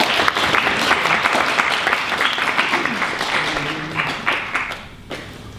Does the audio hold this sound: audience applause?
yes